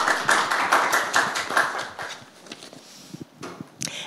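A conference audience applauds after a talk, steady dense clapping that fades into a few scattered claps and some shuffling near the end.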